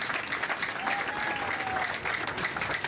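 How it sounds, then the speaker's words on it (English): A crowd at a Bobi Wine political rally claps steadily and loudly, a continuous wash of applause from many hands that holds without a break. "Please clap for yourselves."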